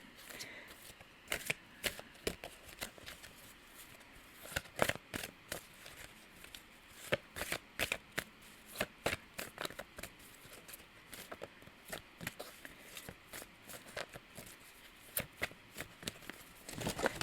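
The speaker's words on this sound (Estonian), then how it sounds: "ma segan sulle mõned kaardid veel." A deck of tarot cards being shuffled, with a steady run of crisp riffling and flicking bursts spread across the whole stretch, fairly close and with no talking over it.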